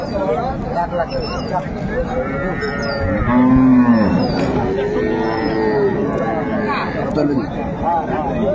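A dairy cow with her calf mooing at a crowded rural cattle market, one long loud moo in the middle over steady crowd chatter and nearby voices.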